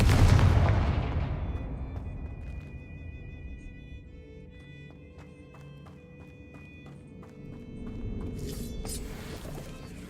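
Explosive Confringo spell in the Hogwarts Legacy video game: a loud close boom at the start rolls off into a long fading rumble, with faint chimes, clicks and footsteps, and a second crackling burst near the end.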